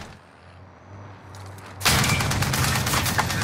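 Enemy gunfire strikes an armored vehicle in Warzone (Modern Warfare, Season 6), a dense, loud burst of rapid shots and impacts erupting after a low engine hum and continuing steadily to the end.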